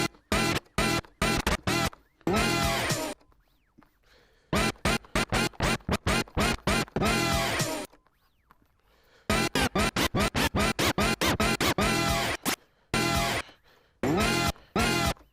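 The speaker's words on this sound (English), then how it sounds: "Just do a rub and see what the rub looks like." DJ turntable rub scratching, the record pushed back and forth in quick bursts of choppy, rhythmic strokes separated by brief pauses, loud and close with no talking.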